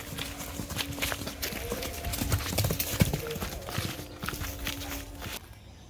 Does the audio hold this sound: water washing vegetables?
no